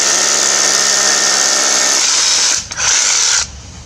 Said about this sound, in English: First test is going to be Ryobi hammer drill with a 3/16 bit. Going to drill till it punches through.